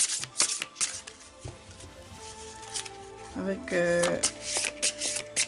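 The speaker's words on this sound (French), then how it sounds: "Je vais tirer 3 cartes" Osho Zen tarot cards shuffled by hand, with crisp riffling card flicks and soft slaps across the span, under occasional speech.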